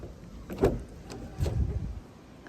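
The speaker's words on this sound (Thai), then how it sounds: "ขออนุญาตนะคะเปิดประตูนิดนึงนะ" A 2019 Toyota Altis 1.6G sedan door is opened, giving two soft mechanical clunks about a second apart, fairly close and quiet, with no talking.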